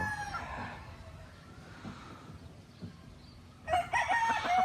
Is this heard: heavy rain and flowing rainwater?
no